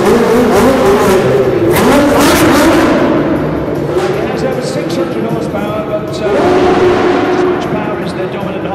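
A Lotus Formula One car with a Judd V8 engine roars past at a classic car show parade in London, loud revving that swells, dips and climbs again, while a commentator talks over it.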